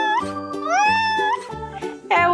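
A cat meows close up in a few drawn-out, rising and falling cries, loud and clear with no other sounds.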